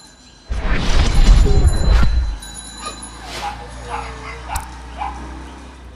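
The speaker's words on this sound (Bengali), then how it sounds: "তো আমরা এখন যে কুকুরগুলো দেখতে পাচ্ছি এটা হচ্ছে জার্মান স্পিস বা জাপানি স্পিস" German spitz puppies in a pet shop let out a burst of close yips and barks for about two seconds, then quieter whimpers and yelps follow with people talking nearby.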